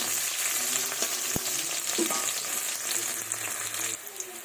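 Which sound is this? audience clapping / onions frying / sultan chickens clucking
onions frying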